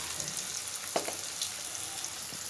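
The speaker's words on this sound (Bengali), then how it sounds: "ভালোভাবে মশলাটার সঙ্গে আলুটার সঙ্গে আমি কষিয়ে নেব" Cubed potatoes fry with salt, turmeric, chili, coriander and cumin powder in a pan, giving a constant close sizzle with a few soft stirring knocks.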